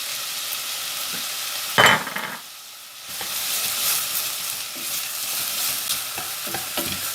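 Onions and garlic cooking in a pan for curry sauce, a loud continuous sizzle with a sharp burst of stirring scrape early on, a short quieter gap, then the sizzle swells back steadily, no talking.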